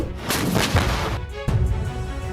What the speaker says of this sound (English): Paladin M109A6 is a cannon artillery system